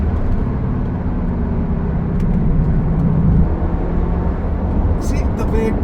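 Skoda Superb 1.8 TSI accelerating on a highway, a steady loud engine and road drone that rises in pitch as it pulls, with someone talking over it.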